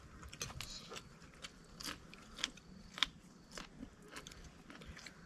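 Close, crunchy chewing and biting of marinated beef with chili during an outdoor midday meal in a rice field, quiet irregular bites and crackles with a few sharper crunches.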